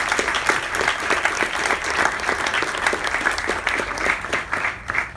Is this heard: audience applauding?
yes